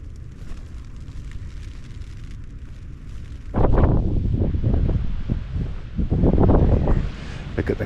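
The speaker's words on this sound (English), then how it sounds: "And it is seriously windy out here." Strong storm wind buffets an exposed camp on Snowdon mountain, a steady roar that swells into loud, gusty blasts hammering the microphone in the second half.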